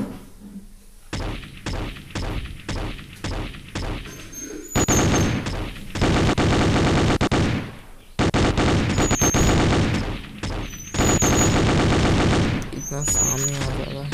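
P90 submachine gun fire in a shooting video game: short separate bursts at first, then long sustained rattling volleys with brief gaps, loud and close, with small game sounds in between.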